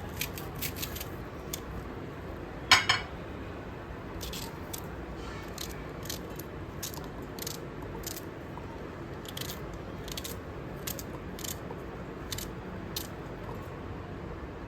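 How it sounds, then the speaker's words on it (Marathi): A knife chops raw green mango into small pieces, producing a run of quick, crisp cuts in uneven bursts, close and fairly quiet, with one sharper knock near the start. "याच्या कापते बारीक बारीक फोडी"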